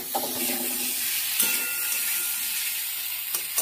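Potato and tomato curry being stirred in a pan, with a soft steady sizzle of frying under scattered clinks and scrapes of the spoon against the pan.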